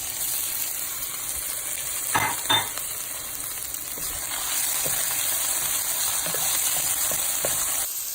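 Shrimp hitting a hot pan already holding ginger, onions and garlic, giving a steady frying sizzle with a few louder bursts and scrapes as the pan is stirred, close and fairly quiet, with no talking.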